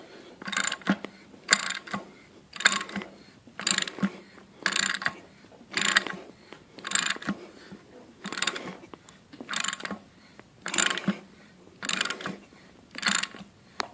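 A ratchet presses a harmonic balancer onto an LQ9 engine in a 1967 C10 rat rod. Rapid clicking bursts repeat in a steady cycle of about a dozen close, moderately loud strokes, with no talking.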